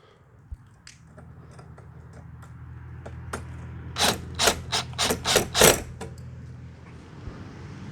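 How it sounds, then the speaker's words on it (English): A drill and a wrench tighten the wheel nuts on a Hyper Toys Jeep Gladiator Power Wheels ride-on, with a low motor hum and then a run of loud ratcheting bursts that fade back to light clicks. "I'm going to get a drill and a wrench and tighten these down"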